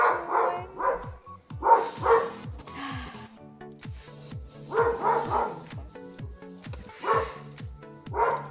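Several small puppies bark and yip in rapid, overlapping bursts, close by and fairly loud, with brief pauses between rounds.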